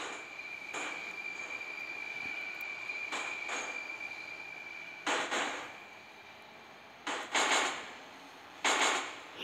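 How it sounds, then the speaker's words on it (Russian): In a Moscow Metro simulator game, a train horn sounds as a warning, giving several short, sharp blasts in uneven pairs over a quiet background of running-train noise. "Это гудок, типа предупреждающий сигнал."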